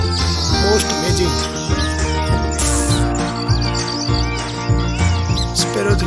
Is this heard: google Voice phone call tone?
no